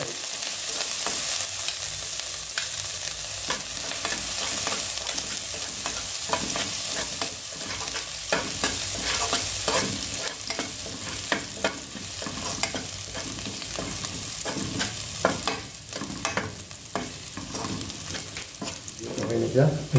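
Garlic sautés in a hot pan for chicken tinola, a continuous crackling sizzle broken by clinks and scrapes of stirring, fairly soft and close, with a brief voice near the end.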